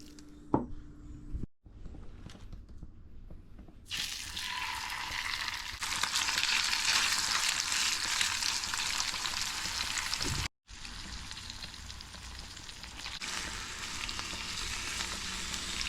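Fresh-caught fish from a Florida canal sizzles loudly in a hot pan, a dense steady crackle that swells sharply as the fish goes in and keeps spitting with brief pauses, with no voices.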